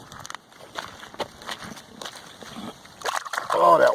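A stone point being rinsed off in cold river water at the Susquehanna River, with soft sloshing and splashing as it is handled, followed by a louder burst of moving water at the end.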